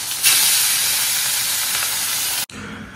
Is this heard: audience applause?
no